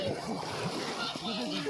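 Water splashes and sloshes in a village pond used as a swimming pool, close and choppy, with children's voices talking over it.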